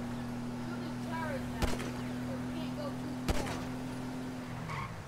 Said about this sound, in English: I've shot out one of his tires